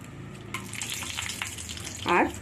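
Two bay leaves and two dried red chillies drop into smoking-hot oil, setting off a sudden, close, crackling sizzle that holds steady, with a brief voice-like sound near the end.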